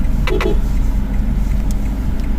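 Steady low road rumble and tyre noise from a 2024 Citroen C3 Aircross automatic driving and taking a turn, continuous and fairly loud with a couple of brief higher clicks near the start.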